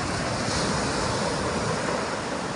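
Sea surf rolls onto the shore in a continuous broad wash, loud and close, mixed with wind buffeting the microphone, with no talking.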